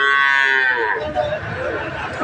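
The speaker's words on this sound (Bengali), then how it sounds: "আবারও গাভী এবং বাছুর।" A cow lows loudly and close by at a busy rural cattle market, one long drawn-out moo that falls in pitch over about two seconds.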